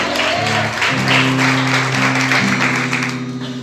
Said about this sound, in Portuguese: Se é para Deus, aplauda mais forte.